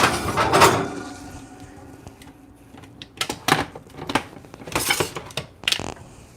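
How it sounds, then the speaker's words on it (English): A shepherd's pie dish goes into a home kitchen oven: a rattling clatter of dishware first, then several clanks and thumps of the oven rack and door, close and fairly loud. "So into the oven it goes."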